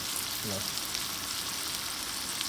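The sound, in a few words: breakfast sizzling in a skillet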